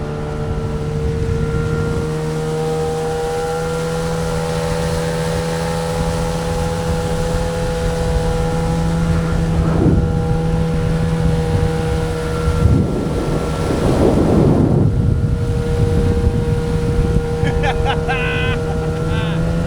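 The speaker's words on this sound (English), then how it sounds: "Let me turn off the engine." Outboard engine of a Saturn SD415 inflatable boat running on open water, a steady loud drone with constant harmonics, wind buffeting the microphone and occasional splashes and wave slaps.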